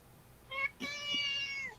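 A cat gives two meows, a short one followed by a longer drawn-out cry, close and clear against a quiet room.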